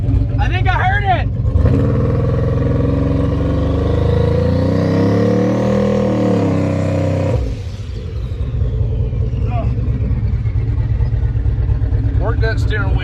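A turbocharged Ford Ranger engine revs hard during a burnout attempt, a loud sustained roar that climbs and swells for several seconds before dropping back to a rough idle, with voices heard around it.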